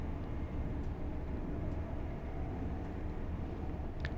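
Train in Train Sim World 4 racing along, a steady low rumble and rolling drone that stays even and continuous, moderately loud, with a brief sharp click near the end.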